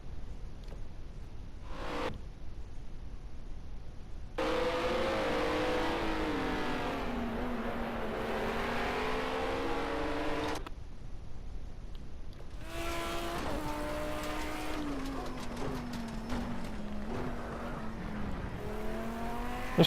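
Race cars roaring through a racing video game, engines revving and shifting pitch continuously in long sweeping passes, loud and close, with brief drops where the sound cuts out.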